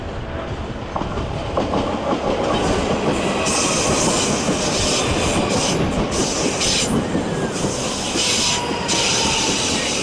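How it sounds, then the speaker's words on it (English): Class 458 Juniper electric train arriving at Clapham Junction station, a loud, continuous rumble of wheels on track with rhythmic clickety-clack and high squealing from the wheels, steady throughout with no talk. "Meanwhile, a Juniper train is arriving here."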